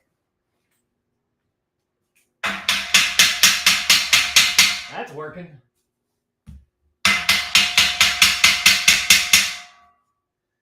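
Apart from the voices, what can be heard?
hammering garage shelving unit parts together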